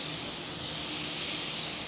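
Continuous spray-gun hiss as paint is applied to custom Aston Martin body panels in a spray booth, a steady close airy rush with no break across the short stretch.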